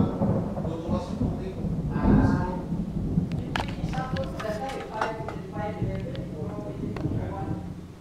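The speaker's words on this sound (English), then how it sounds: "Do you hear that? That's the thunder." Thunder from a Florida thunderstorm rolls as a low, swelling rumble, loudest early and then fading, with voices and outdoor noise around it.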